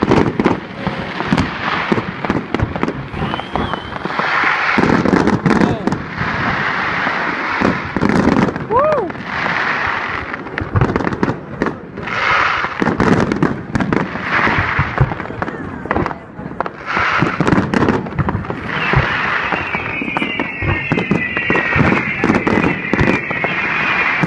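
New Year fireworks bursting over a harbour, with repeated booms and crackling pops in irregular volleys, loud and close, while a crowd cheers and people talk throughout.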